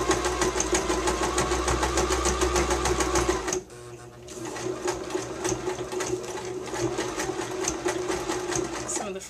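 A sewing machine stitches doll wig extensions with a fast, steady mechanical whir and rhythmic needle ticking. It stops briefly, then runs again, close and loud, while a person talks over it.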